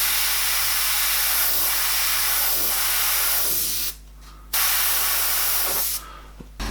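An airbrush sprays paint onto a skull, producing a steady close hiss that cuts out briefly twice before resuming.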